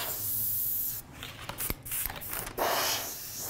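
Airbrush spraying paint for a real-fire candy paint job, a steady airy hiss broken by short stops and bursts, close and fairly faint.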